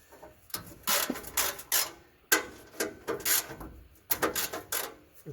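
Two 10mm bolts are loosened from an inner CVT heat shield, with repeated scraping, ratcheting bursts close by, in clusters separated by short pauses, no talking.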